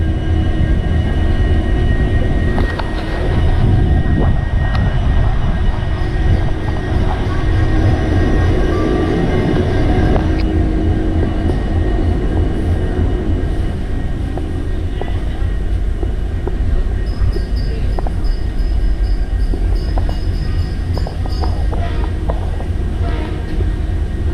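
An Indian Railways train runs along, heard from inside the coach: a continuous loud rumble with rhythmic wheel clatter, a long horn blast and a voice talking now and then.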